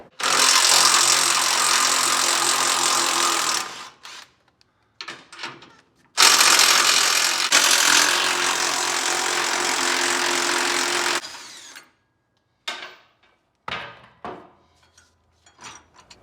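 A power ratchet with a 15mm socket removes the nuts holding the transmission cooler on a Ford 10R80. Two long, loud, close whirring runs are followed by several short bursts with quiet gaps between them.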